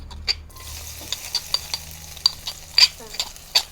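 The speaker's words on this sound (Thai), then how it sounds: "เอาพริกกระเทียมลงไปผัดให้มันหอมก่อนแล้วก็ใส่ไก่ฮะ" Chili and garlic stir-fry with light sizzling in a hot wok, with scattered scraping stirs and a few sharp utensil taps against the metal.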